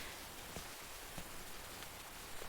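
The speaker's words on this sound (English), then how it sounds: "listening to the rain tap against the tree trunk and the stones near my feet" Steady rain patters on a tree trunk and stones, a soft continuous hiss of drops with occasional louder taps close by.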